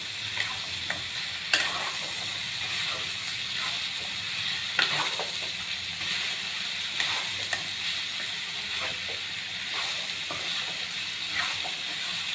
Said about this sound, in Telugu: మొత్తం బాగా కలపాలండి.